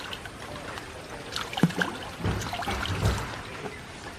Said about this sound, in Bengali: এবার আমি ভালো করে এখানে পুকুরে জল দিয়ে ধুয়ে দেব